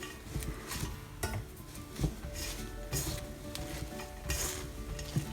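Palak pitod mixture is stirred by hand in a pan, giving soft, close scraping and clinking strokes in an irregular rhythm, with faint sizzling underneath.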